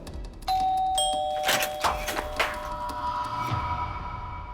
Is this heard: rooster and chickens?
no